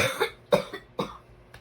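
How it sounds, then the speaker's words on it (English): Four sharp coughs come from one person during a Block Tech Tiny Tanks build. They are close, spaced roughly half a second apart, and the last is fainter. "Sorry, I keep coughing."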